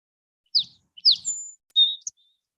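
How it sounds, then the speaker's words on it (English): A few short, bright bird chirps and tweets in quick succession in a garden, clear against an otherwise quiet background. "The birds are just singing."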